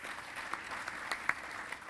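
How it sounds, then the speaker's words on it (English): Audience at a talk applauds, a soft continuous wash of clapping with a few sharper hand claps standing out, heard from some distance and fairly quiet. "So a huge round of applause to them."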